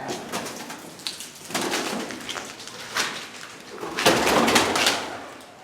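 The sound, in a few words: pigeons cooing in an abandoned church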